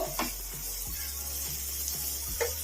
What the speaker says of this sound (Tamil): புதினா சேர்த்த பிறகு இரண்டு நிமிடம் நல்லா கிளறி விட்டுக்கோங்க அப்பதான் அந்த தக்காளி காய்கறி எல்லாமே நல்லா வதங்கும்